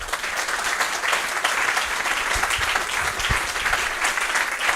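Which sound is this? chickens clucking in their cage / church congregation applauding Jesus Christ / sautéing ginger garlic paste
church congregation applauding Jesus Christ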